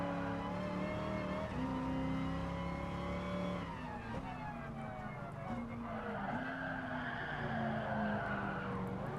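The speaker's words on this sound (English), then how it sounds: "Good drift through there." A race car in the Gran Turismo Sport video game drifts through a corner, its engine droning steadily under a long, sustained tire skid that shifts in pitch as the slide continues.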